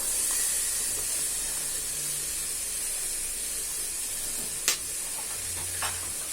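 Capsicum hits warm oil in a pan, giving a steady, bright hiss and sizzle throughout, punctuated by a sharp clink near the end and a brief scrape shortly after; no talking.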